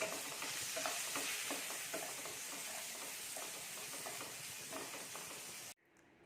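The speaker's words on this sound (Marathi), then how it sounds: "बटाटे घालून घेऊया। वाटाणे घालायचे आहेत व सर्व मिश्रण एकजीव करून घ्यायचं आहे।" A spoon stirs a potato and pea filling with coriander in a pan, giving steady scraping and soft sizzling close by for several seconds before the sound cuts off abruptly near the end.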